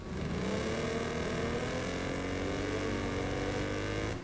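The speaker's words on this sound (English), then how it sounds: "I particularly love the crackle of Wreckfest 2's new, and currently unnamed, riff on a third-generation Chevrolet Cavalier." A racing car in the video game Wreckfest 2, modeled on a third-generation Chevrolet Cavalier, revs with a steady loud engine drone and rising pitch, a dense continuous roar with no talk.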